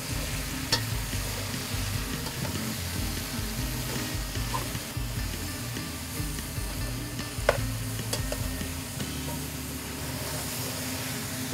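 Fresh vegetables fry and sizzle in a pan in a home kitchen, a dense, steady crackle heard up close for the whole stretch, with a few sharp clicks from stirring.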